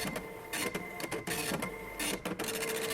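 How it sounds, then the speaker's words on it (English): A slow office printer runs through a print job in uneven bursts: whirring passes broken by short mechanical clicks and pauses, close and moderately loud, with no talking. "Sorry, slow printer."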